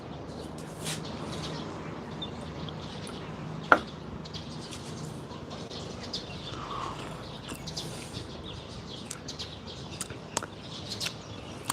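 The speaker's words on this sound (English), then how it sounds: "But yeah, the birds are chirping." Faint birds chirp in scattered short calls outdoors, fairly distant, with a soft steady background and no talking.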